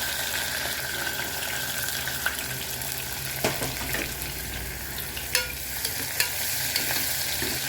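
Onion and green chilli stir-fry in a pan with a loud, dense sizzle that continues throughout. Occasional scrapes and knocks of a spoon against the pan break through it, heard up close without any speech.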